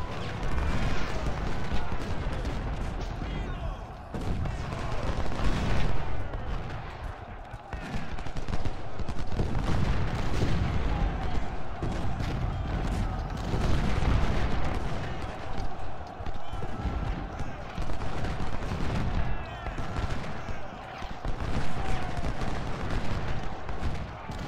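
Twelve-pound smoothbore cannons fire across a Battle of Shiloh scene in Ultimate General: Civil War, a dense, continuous roar of booms and crackling gunfire under a steady battlefield din, with a voice talking over it.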